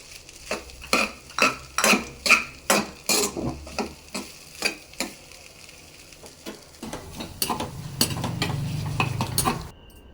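Tomato rice being stirred in a metal pot after peanuts and coriander are added, with a steady run of sharp spoon-on-pot scrapes and clanks, then softer mixing over a low sizzle; no talking.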